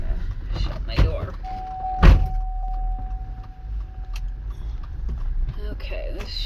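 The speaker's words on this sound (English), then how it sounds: "I'm gonna shut my door." Door of a 2004 Chevy Tahoe being shut, one solid thunk heard close from inside the vehicle, followed by a brief electronic tone and faint interior sounds.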